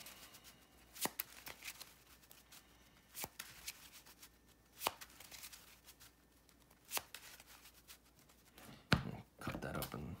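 Playing cards from a Yu-Gi-Oh! Vennominaga deck are shuffled by hand, a series of soft riffling bursts at irregular intervals, close and fairly quiet, with a longer busier riffle near the end.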